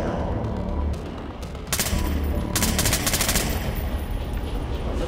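Gunfire in the video game Splinter Cell Blacklist, rapid automatic bursts and overlapping shots forming a dense, loud fusillade that swells after the first second and stays sustained.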